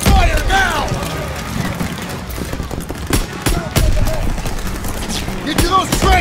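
Battle gunfire and explosions from the video game Call of Duty WWII, on a Rhine assault level, sound as rapid bursts of rifle and machine-gun shots with heavy booms, loud and close throughout.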